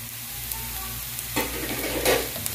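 Shallots fry with chili and turmeric powder for a tomato curry, a steady close sizzle that swells as spoon strokes scrape and stir through the pan, with no voices.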